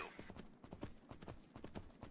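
Horse hooves clip-clopping at a fast pace in the video game Myth of Empires, a steady rapid rhythm of hoof strikes, close and clear, with a faint whinny-like sound at the very start.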